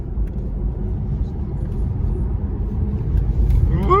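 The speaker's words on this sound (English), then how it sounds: "so now you can really feel this car go very fast around the corners" Porsche Taycan 4S, an electric car, driven fast through corners: a steady low road and motor rumble from inside the cabin, continuous and moderately loud, with a faint rising whine near the end.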